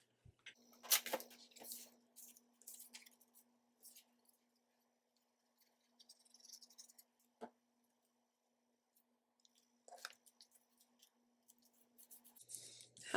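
Scissors trimming a paper cover for a mini composition book at an angle, giving a few faint close snips and clicks with a low steady hum underneath and long quiet gaps between cuts.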